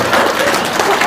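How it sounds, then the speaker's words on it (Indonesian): Steady applause from a crowd, dense and continuous throughout, with voices faintly mixed in. "Tepuk tangan dong."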